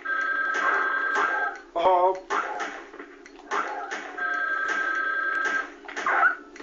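A telephone rings in the Resident Evil Survivor video game, sounding as repeated bursts of a steady electronic ring with short gaps between them. A brief shout cuts in partway through.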